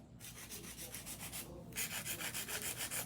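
100 grit nail file shaping acrylic nails, a close, brisk rasping with quick even back-and-forth strokes that grows louder and more regular toward the end, with no talking.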